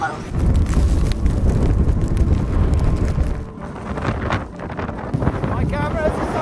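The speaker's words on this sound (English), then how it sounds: "We've got a squall coming in now, and when they hit," Strong wind from a snow squall hits the coast during a snowstorm, roaring hard against the microphone, easing slightly partway through and then gusting again.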